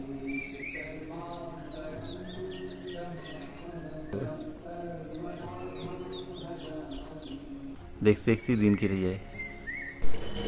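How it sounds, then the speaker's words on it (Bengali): Birds chirp and call steadily at a misty hill viewpoint near Ramdhura, their small bright tweets carrying over a singing voice and a few nearby knocks. "আর সমানে পাখির ডাক শোনা যাচ্ছে।"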